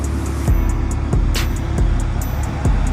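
A tuned Chevrolet Camaro SS slides in snow, its engine droning steadily and loudly throughout with rhythmic low thumps and a faint repeating ticking, heard up close with no talk.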